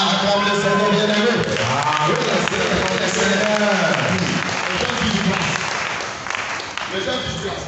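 A church congregation applauds and acclaims the Lord in a continuous, loud wash of clapping mixed with voices and cheering throughout.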